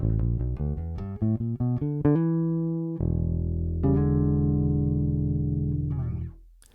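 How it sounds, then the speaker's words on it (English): A 1963 Fender Precision bass played through its P pickup alone, strung with Rotosound signature strings, picks out a quick run of clean plucked notes, then lets a long low note and a final held note ring out before fading. "I'm using my Fender Precision bass from 1963."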